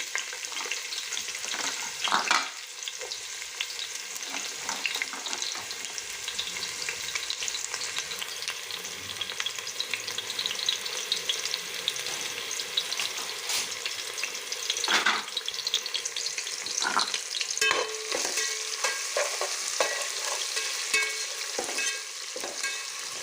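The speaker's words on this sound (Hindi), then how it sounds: "अब प्याज को अच्छी तरह लाल करेंगे।" Sliced onions fry steadily in hot oil with cumin seeds and a bay leaf for a pea and potato pulao, giving a continuous close sizzle broken by occasional scraping stirs of a spoon against the pan, with no talking.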